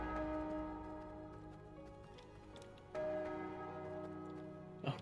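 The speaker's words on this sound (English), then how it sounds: "Did you just build something that's like a bell?" A bell built in the video game V Rising rings, struck twice with a long sustained metallic tone and a slowly fading ring, clear and alone.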